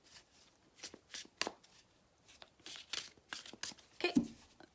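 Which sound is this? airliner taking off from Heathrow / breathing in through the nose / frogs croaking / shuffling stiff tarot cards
shuffling stiff tarot cards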